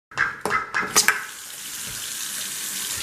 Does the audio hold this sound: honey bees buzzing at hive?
no